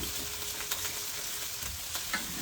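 Steak tagliata turned over in a hot pan with tomatoes scattered around it, giving a steady close crackling sizzle with a few sharper pops and scrapes, and no talking.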